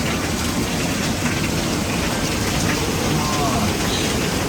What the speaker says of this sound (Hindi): क्या बारिश हो रही है, बहुत तेज बारिश हो रही है।